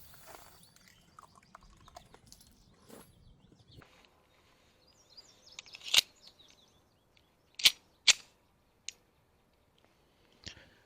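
Ruger SR1911 pistol shots fired at targets about 5 yards away, several sharp, separated cracks with quiet gaps between them, fairly faint and without talk.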